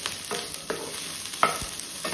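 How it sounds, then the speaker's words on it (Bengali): Mixed vegetables with peas and boiled soybeans stir-frying in a pan, giving a continuous hissing sizzle close up, with scattered scrapes and taps from a stirring utensil and no voices. "সবজিগুলোর সাথে একটু ভালো করে ফ্রাই করে নেব"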